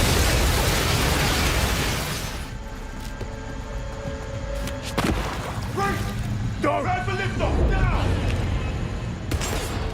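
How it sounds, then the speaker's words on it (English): Beefy, meaty explosions in the video game 007 First Light, with a dense booming blast up front, then a run of sharp pops, crackles and debris bursts over a sustained rumble, loud and close, with a voice talking over it. "we spend a lot of time crafting explosions, right, to have that feel that feels like a beefy,"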